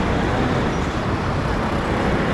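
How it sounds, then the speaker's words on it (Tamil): A Vellore-bound express bus rolls in at the Tambaram Sanatorium bus stand in Chennai, heard as a steady, loud, close engine roar blended with dense traffic noise and no clear breaks. "இப்போதான் வருது, ஒரு வேலூர் வண்டி வருது."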